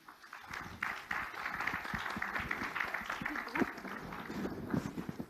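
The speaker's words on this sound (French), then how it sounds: "Vous pouvez les applaudir" At a startup summit, an audience gives a brief round of quiet, scattered applause with voices murmuring through it.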